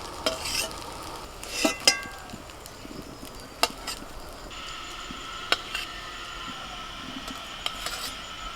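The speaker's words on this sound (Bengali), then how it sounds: "এবার একে একে সবজিগুলো ভেজে নেব। প্রথমেই আলুটা ভেজে নেব।" Potato frying in mustard oil in a pan as vegetables go in one by one, a steady moderate sizzle with repeated spatula scrapes and clanks against the pan at irregular intervals, no voices.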